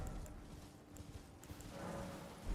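Horse hooves clip-clopping softly while riding in Elden Ring, a faint steady trot of dull thuds beneath a low, noisy game ambience, with no talking.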